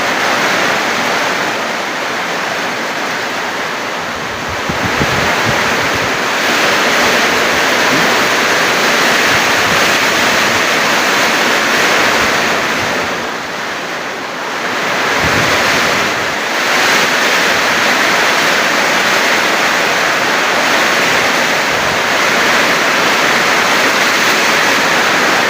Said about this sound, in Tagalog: Naririnig niyo yan guys, lakas ng hangin at saka ng ulan.